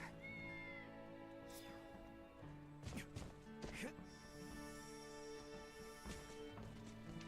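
A cat meows from a rooftop in the video game Star Ocean The Divine Force, several short meows over steady game music and ambience, with a few clattering hits.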